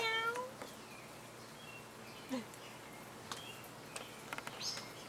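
A cat gives a clear meow at the start, then a few faint chirps and squeaks follow in a quiet outdoor yard with soft background noise.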